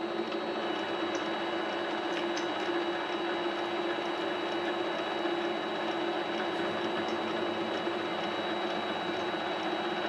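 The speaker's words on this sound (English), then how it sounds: "Let's see, I'm going to chamfer that." A PM-25MV mill chamfering a steel roller gives a steady, continuous machining drone with a faint high whine and light cutting chatter, constant and close throughout, no talking.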